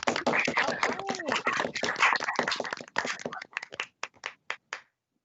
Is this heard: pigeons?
no